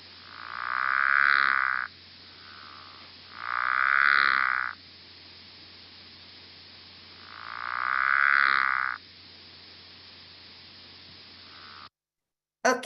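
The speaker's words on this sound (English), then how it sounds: "here comes the pickerel frog with those snores, and it's more raspy." Pickerel frog giving three long, raspy snoring calls, each lasting about two seconds, with steady background hiss between them and nothing else heard.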